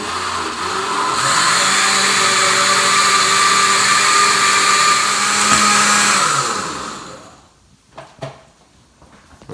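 A kitchen blender grinds cauliflower soup ingredients with consommé and salt, a loud steady whir running for about seven seconds before cutting off, followed by a few faint knocks.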